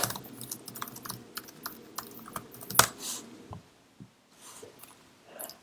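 Rapid, uneven clatter of keys on a computer keyboard, typed in short bursts with brief pauses and occasional louder key strikes, close up with no one talking.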